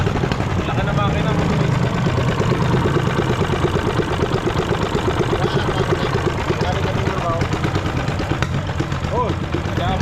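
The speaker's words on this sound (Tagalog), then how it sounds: "Laki na makina." The large engine of a service boat runs with a continuous, loud, steady drone while people talk nearby over the noise.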